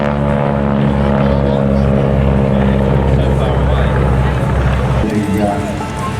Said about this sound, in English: Let's see if we can hear the noise of the round engine over the canvas.